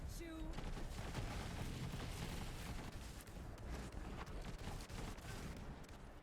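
Trevonator shotgun in Borderlands 3 firing in a dense, continuous barrage of booming blasts and gunfire, loud and close throughout, with game noise and speech layered underneath.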